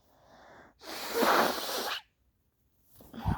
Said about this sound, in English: I've got to blow my nose for a second.